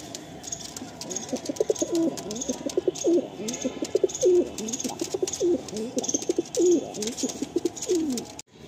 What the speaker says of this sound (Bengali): এটা খুব শখের জিনিস, মালবাহী পায়রা